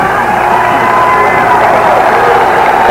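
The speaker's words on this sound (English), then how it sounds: "Well, the crowd is getting involved now." Basketball arena crowd during a 1984 Spurs vs Clippers NBA game, roaring and cheering loudly and steadily with mixed shouts and whoops, a dense, close wall of noise swelling slightly toward the end.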